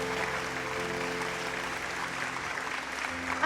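A studio audience applauds for the singer in a sustained, dense wash of clapping that holds steady throughout before a brief louder burst at the end.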